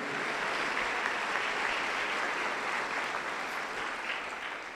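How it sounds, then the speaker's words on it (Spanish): Sustained applause from a Spanish-speaking church congregation during a Sunday sermon, an even wash of many hands clapping at moderate distance that continues steadily throughout, with no voices on top. "Aplauso para Cristo Jesús"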